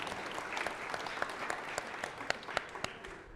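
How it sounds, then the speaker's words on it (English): Crowd at a business mastermind event gives a speaker a sustained round of applause, continuous many-handed clapping with scattered sharper claps standing out near the end. "Let's give one more round of applause for Eddie"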